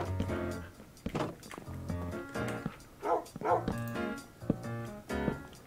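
Several Minecraft dogs yip and bark in short repeated bursts over a background of game music, with some faint whimpering mixed in.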